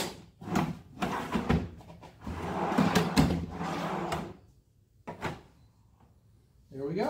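A wooden drawer is slid into a CNC-built Shaker-style cabinet, giving a few scraping slides and soft knocks as it is lined up and pushed home, with brief bursts of quiet talk in between.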